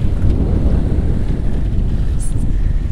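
Strong wind blowing across a sailboat under a reefed main and full genoa at sea, a loud, constant roaring rush buffeting the microphone with no speech.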